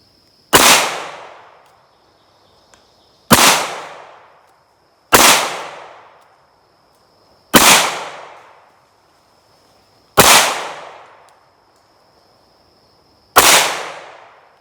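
Six loud, sharp shots from a full-size Ruger 57 pistol with a long slide, fired at a steel plate outdoors. Each crack rings out and decays over roughly a second, spaced about two to three seconds apart, with no talking.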